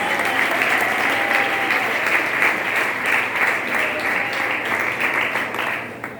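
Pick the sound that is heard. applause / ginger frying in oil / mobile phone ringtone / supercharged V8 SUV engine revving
applause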